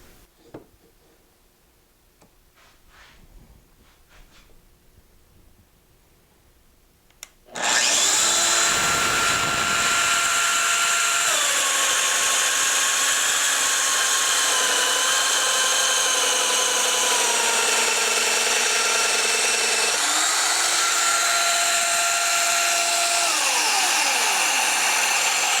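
A Festool Domino XL DF 700 joiner with a hose attached starts after some quiet handling noise, then cuts a mortise in wood with a loud, continuous high-pitched motor whine and grinding that shifts slightly in pitch as it works.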